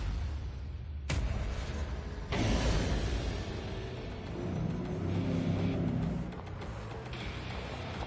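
A Citroën C5 Aircross drives and accelerates, a steady engine drone interrupted by two abrupt loud bursts, then a surge that eases off toward the end.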